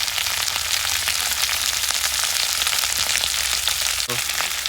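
Mixed vegetables fry in a pan with turmeric, chili flakes and ginger garlic paste, a loud continuous crackling sizzle up close, broken only by a brief knock near the end, with no talking.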